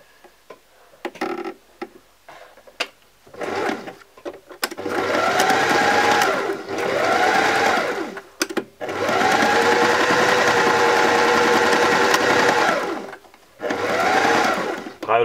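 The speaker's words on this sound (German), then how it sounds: "Erst mit dem Steppstich und wirklich dann auch hier mehrmals drüber fahren." A sewing machine runs straight stitches over a seam several times with cotton thread, in loud sustained bursts of motor whir separated by short pauses and clicks.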